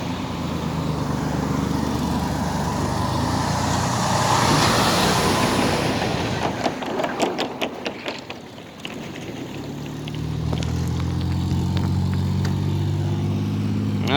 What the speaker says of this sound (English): Loud trucks going by.